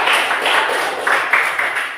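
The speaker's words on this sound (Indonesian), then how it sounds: "Give applause. Kelompok 3. Ya, kita berikan tepuk tangan juga." Classroom applause for a student group, a brief patter of many hands clapping at once, fairly close and steady.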